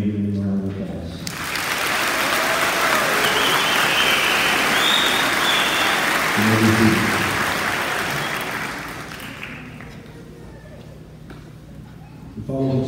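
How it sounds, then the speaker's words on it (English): An audience at a high school graduation ceremony breaks into sustained applause that swells and then fades, with a voice speaking briefly before, during, and just after the clapping. "Please join me in giving them a round of applause."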